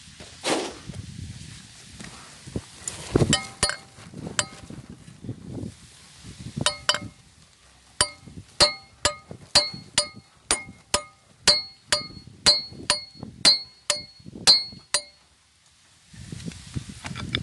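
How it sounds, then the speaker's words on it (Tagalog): Metal hammer blows strike a bolt on an R180 diesel engine, a dozen or so sharp, ringing clinks spaced about half a second apart, with a few earlier knocks and low rumbling handling noise around them. "pukpukin ulit natin."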